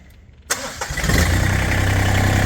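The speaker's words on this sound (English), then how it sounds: "go ahead and start the tractor up" A Massey Ferguson 1GC.25 compact tractor engine cranks and catches after a brief moment of quiet, then settles into a steady, loud idle close by.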